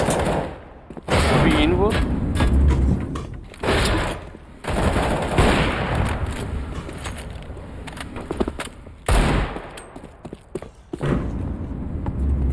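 Rapid automatic gunfire rattles in loud bursts during a bank-heist mission in the video game CS:GO, with several long volleys broken by brief pauses and people talking over the shooting.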